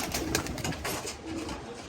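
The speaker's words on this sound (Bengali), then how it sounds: "মাশাল্লাহ গাইস, কবুতরগুলো লক্ষ্য করেন।" Several female pigeons being readied for a tournament coo steadily in soft, overlapping murmurs, close by and fairly quiet, with no talking.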